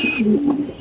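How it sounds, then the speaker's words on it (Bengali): A white Spanish pigeon gives a single clear, close coo, a low wavering call that rises and falls over under a second, with no talk over it. "দেখেন দর্শক কবুতরের ডাক দেখেন ভাই"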